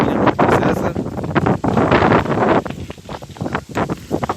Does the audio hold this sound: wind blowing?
yes